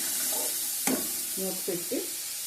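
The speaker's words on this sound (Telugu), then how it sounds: "ఇది మంచిగా మనకి ఎర్రగా వేగేదాకా" Onions for a broad bean and tomato curry fry and are stirred in a pan, a steady hissing sizzle with one sharp scrape and a few short voice sounds over it.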